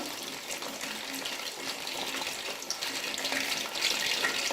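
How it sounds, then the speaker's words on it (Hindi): Chicken fries in hot oil over medium heat, giving a steady, bright sizzle and crackle that holds throughout without a break, with no talk over it. "अब हम मीडियम आंच पे इसको फ्राई करेंगे।"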